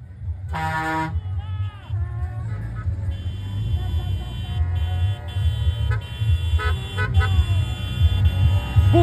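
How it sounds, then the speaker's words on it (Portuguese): Car horns honk repeatedly over steady traffic rumble and crowd noise in Barretos, Brazil, with short blasts and a longer tone near the start. "Buzina!"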